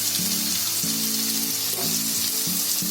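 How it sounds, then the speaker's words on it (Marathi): Finely chopped onion frying in a pan with cumin seeds, a dense close sizzle over a low rhythmic pulsing hum, with no voices. "आता कांदा टाकलाय"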